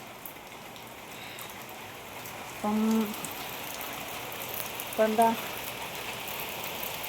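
Heavy rain pours outside onto an empty road, a steady, even hiss filling the whole stretch while a voice briefly speaks twice over it.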